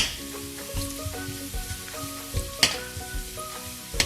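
Garlic frying in oil in a pan toward golden brown for a pork ribs caldereta, a steady close sizzle with occasional stirring clinks and scrapes, no talking.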